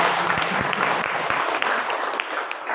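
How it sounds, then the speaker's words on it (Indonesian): A room of mothers at a parenting talk break into enthusiastic clapping, a brisk, fairly close round of applause with individual hand claps standing out, holding steady then easing slightly. "boleh saya dengar tepuk tangan semangat"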